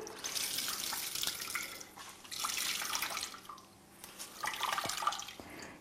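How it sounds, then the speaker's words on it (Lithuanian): Water splashes and trickles in bursts as a soaked cleaning cloth is wrung out, several separate streams dripping into a container, close and fairly quiet. "Ir išgręžu šluostę pilnai vandenį"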